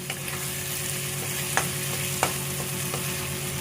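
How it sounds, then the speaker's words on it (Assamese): Peas fry with spices in a hot pan with a steady, close sizzle. A couple of sharp clinks from stirring break through, and no one speaks. "আৰু ধুনীয়াকৈ অকণমান সময় ভাজি ল'ম।"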